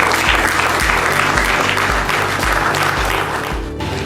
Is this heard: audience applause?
yes